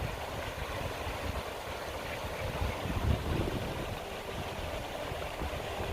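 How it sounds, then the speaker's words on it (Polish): A mountain stream in the Kościeliska Valley of the Tatras rushes steadily with a broad, even flow, close and fairly quiet, with no voices over it. "To co lubię najbardziej, górskie potoki."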